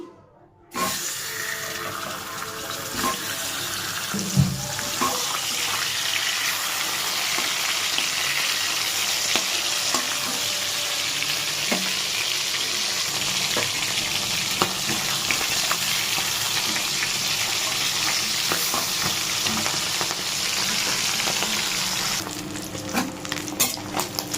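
Hilsa fish head frying in mustard oil in a pan, a loud, steady crackling sizzle lasting throughout, with a few scrapes and knocks of a utensil and no talking.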